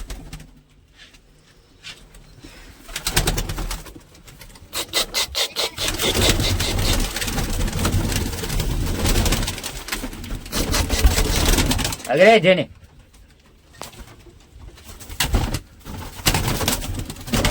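Pigeons coo in a low, throaty rhythm nearby amid rustling and scraping noises, with a brief spoken exclamation.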